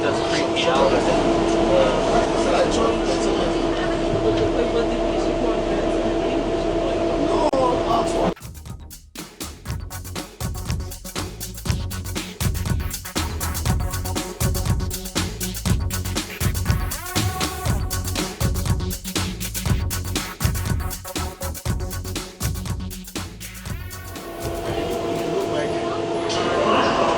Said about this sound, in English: Nobody's driving the train.